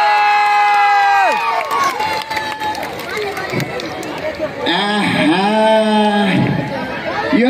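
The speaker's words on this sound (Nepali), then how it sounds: "यो तालीले त पुगेन" A large festival crowd in Nepal roars and shouts loudly and continuously, with raised voices rising and falling throughout; clapping is not distinct.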